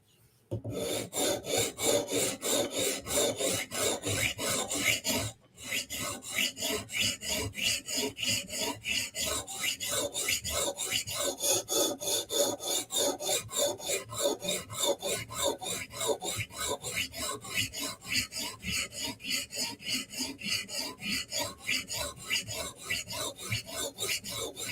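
A Steel Will flipper knife's blade bevel being sharpened, a steady rapid rasping of steel stroked against an abrasive, close and continuous with one brief pause early on.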